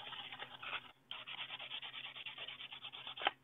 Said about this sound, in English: you want to take the sandpaper and polish it, make sure it's real nice and smooth.